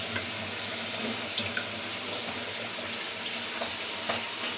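Tap water runs steadily into a kitchen sink while leafy greens are washed, a continuous close hiss and splash broken by a few small clinks, with no talking.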